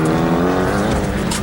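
A loud, close 1989 Mitsubishi Galant four-wheel-drive rally car roars continuously at full power through a corner, its engine note dense and unbroken.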